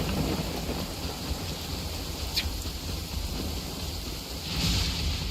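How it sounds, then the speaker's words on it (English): Steady rain pours in the video game Genshin Impact, a dense even hiss with a faint low rumble swelling near the end, no voices present. "This rain ain't clearing anytime soon"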